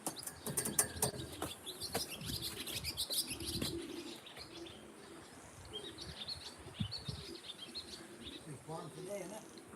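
Racing pigeons back from an 83-mile race from Okehampton, cooing and chirping softly at close range, with brief wing flaps and faint background voices.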